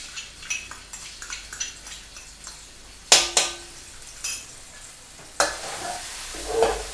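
Pounded chili and garlic sizzle and are stirred in hot oil in a pan, with a soft steady fry, scraping spatula strokes, and two louder bursts of sizzling as the pan is worked.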